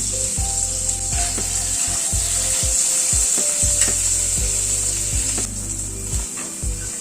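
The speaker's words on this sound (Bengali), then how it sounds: "পনিরটাকে একটু লাল করে ভেজে" Paneer sizzles steadily as it fries in a pan, a constant bright hiss with repeated low scraping and knocking as the pieces are stirred and turned, close and loud with no talking.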